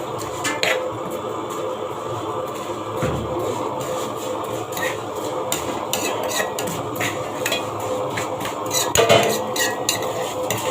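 Spoon scraping and clinking against a baking tray while stirring potatoes and chicken, a steady stream of close metallic scrapes and taps with no talk.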